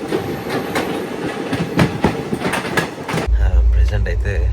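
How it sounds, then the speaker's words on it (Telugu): Machilipatnam Express pulling out of Duvvada station, a loud rolling rumble with clattering wheel beats that deepens into a heavy low roar as the train picks up speed, with a voice talking over it. "ఇక్కడ అయితే మనదే ట్రైన్ స్టార్ట్ అయింది దువ్వాడ నుంచి"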